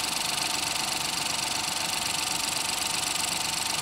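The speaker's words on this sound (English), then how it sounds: "this one is equipped with the 1-liter three-cylinder engine, the EcoBoost turbocharged engine" Ford EcoSport's 1-liter three-cylinder EcoBoost turbocharged engine, paired with a 6-speed automatic, idles steadily with an even, close mechanical hum and fine ticking, running alone without voices.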